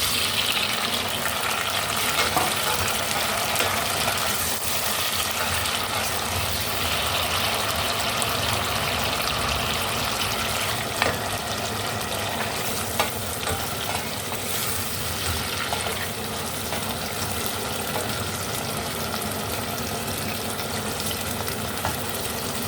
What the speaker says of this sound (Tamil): இந்த உள்ளிப்பூடு லைட்டாக வதங்கி கொண்டு வரும்போது இந்த நாங்கள் எடுத்து வச்ச 2 தக்காளி பழத்தையும் இதோட சேர்ப்போம்.